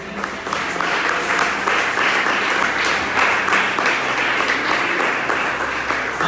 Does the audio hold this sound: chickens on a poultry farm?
no